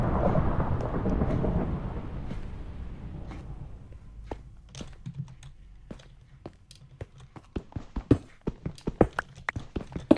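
Thunderstorm in the Minecraft survival world: a long loud rumble of thunder fades over several seconds, followed by a patter of rain and scattered sharp clicks and taps.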